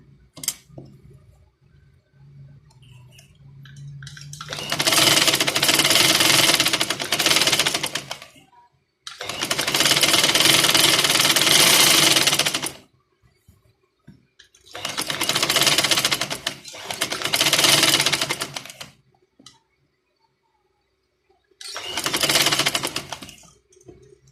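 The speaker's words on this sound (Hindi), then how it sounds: "अब हमने क्या करना है कि हमने इधर से रख के सिलाई लगानी है।" A sewing machine stitches a trouser hem (paincha) in close, loud bursts of rapid mechanical chatter, four or five runs of several seconds each separated by quiet pauses.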